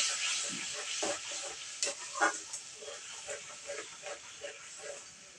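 Koi fish curry with coconut milk and yogurt is stirred in a pan: a bubbling sizzle with a run of wet, rhythmic scraping strokes, close and moderately loud, with no talking.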